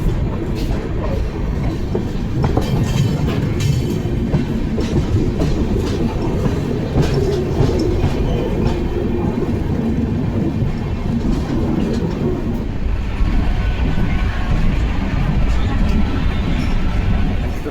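Amrit Bharat Express passenger train rolls along the rails, a loud, continuous rumble with rhythmic clickety-clack of the wheels heard from inside the coach, changing tone toward the end.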